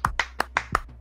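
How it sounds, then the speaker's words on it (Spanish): A small burst of hand claps for a guest on a talk show, about six sharp, close claps in quick rhythm with no talking. "pues un aplauso para Aarón Aguayo"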